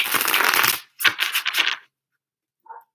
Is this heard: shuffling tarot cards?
yes